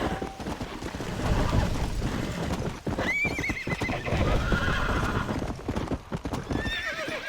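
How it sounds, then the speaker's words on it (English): Horse in Red Dead Redemption neighing loudly amid steady clip-clop hoofbeats, a continuous galloping rhythm with a shrill whinny in the middle and faint voices underneath. "Stop throwing me off the damn horse."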